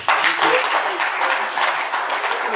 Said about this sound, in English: Please welcome with a great big round of applause our friend, Justin Bill.